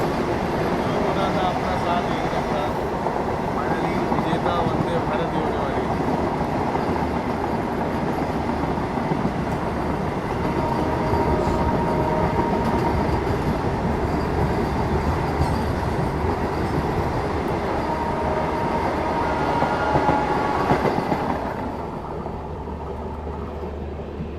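A steady, loud rumble and rattle of wheels on rails from inside the Bhopal Shatabdi Express as it races a Vande Bharat train, continuous for over twenty seconds before dropping to a softer hum near the end.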